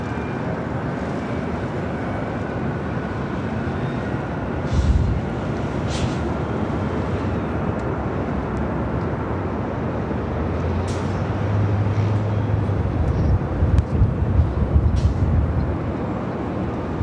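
An Emirates airliner passes at Los Angeles International Airport, a steady broad roar of jet engine noise holding throughout with slight swells, heard from a distance with no voices.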